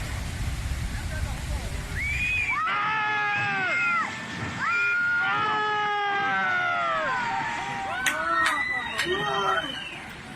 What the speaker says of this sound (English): Listen to the screams.